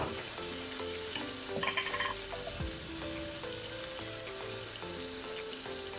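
Ginger and garlic fried in a pan with chicken already cooking for a curried chicken: a continuous close sizzle of hot oil, with a brief stirring scrape and clatter near the middle and no voices.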